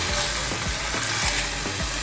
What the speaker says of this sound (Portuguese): E agora adicionamos a cebola.